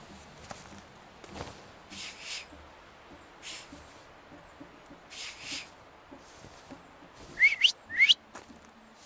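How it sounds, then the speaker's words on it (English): In the video game The Thaumaturge, two short, rising whistles sound close together near the end, after a stretch of sparse footsteps and soft rustles. "So, have you mastered whistling?"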